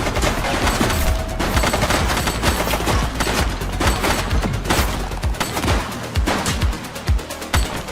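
Heavy gunfire in the police game The Precinct: rapid overlapping shots and automatic bursts, loud and close, keep going throughout with booming low-end impacts and hardly any break.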